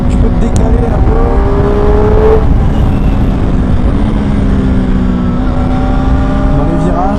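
A Triumph Street Triple 765 RS 2021 roadster motorcycle accelerates with a loud, close engine howl whose pitch climbs through the gears over rushing wind.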